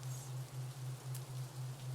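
Steady rain falls as an even, continuous hiss, soft and unbroken, with a low steady hum running underneath throughout.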